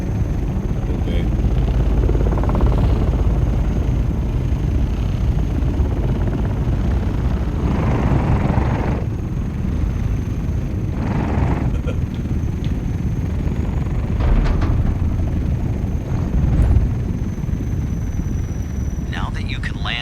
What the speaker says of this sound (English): Now that you can land an ornithopter